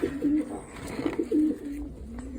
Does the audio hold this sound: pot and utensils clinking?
no